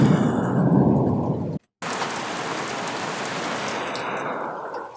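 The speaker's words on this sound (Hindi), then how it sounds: "ये आवाज थोड़ा सा बिजली के का जो होता है आवाज उसका है, और थोड़ा सा बरसात का," A mixed thunder and rain sound effect: steady heavy rainfall with a low thunder rumble, broken by a brief dropout of total silence, then the downpour resumes with a hissing texture until the end.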